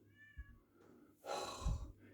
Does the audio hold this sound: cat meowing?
yes